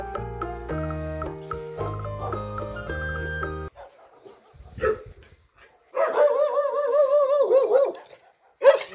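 A dog barks in a few bursts, one sustained and one short, after a stretch of music; the barks are fairly close and loud.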